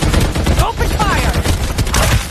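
Rapid bursts of automatic gunfire from a Farlight 84 battle pour out loud and dense, with brief in-game voice lines mixed in.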